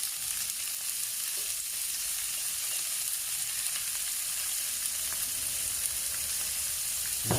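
Vegetables frying in hot oil in a wok, giving a steady, dense sizzle that holds evenly for several seconds with no one talking.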